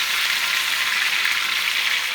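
Steady, crackling sizzle of chicken frying in hot oil in a frying pan, close and continuous with no voices.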